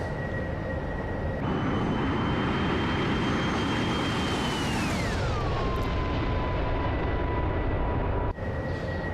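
AV-8B Harrier jet engine in the DCS flight simulator, a loud steady roar with a high whine that drops sharply in pitch midway as flight transitions, continuing alone without talk.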